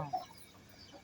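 A hen clucks briefly and softly, a few short calls at the start followed by quieter farmyard background.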